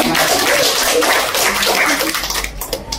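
Audience applause at an Indonesian campaign volunteers' gathering in Sukabumi, a dense, steady patter of many hands clapping that thins and fades toward the end.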